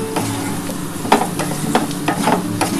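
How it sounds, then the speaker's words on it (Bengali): Spices frying in a pan give a steady, fairly loud sizzle, and a spoon scrapes and stirs through it at irregular intervals. Nobody speaks. "সমস্ত মশলা দিয়ে ভালো করে ভেজে নেবো আমি"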